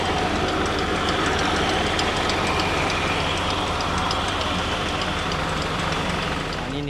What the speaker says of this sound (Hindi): ये ट्रैक्टर का इसमें इस्तेमाल हो रहा है।